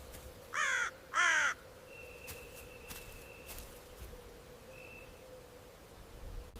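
An African pied crow gives two harsh, loud caws in quick succession, followed by quiet ambience with a faint steady tone and a few soft clicks.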